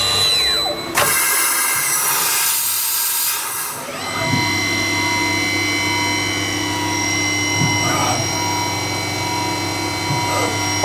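Citizen A16 CNC lathe running its cutoff process with the sub-spindle at about 3,000 RPM, heard from about 4 inches away: a loud steady machine hum with tonal whine, a brief rushing burst near the start, then occasional light knocks.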